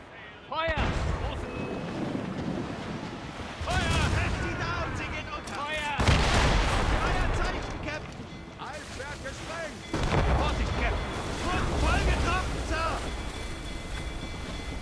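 Ship cannons fire at sea in Assassin's Creed Rogue, several heavy booms rolling out in bursts across the clip, mixed with game ambience while someone talks over them.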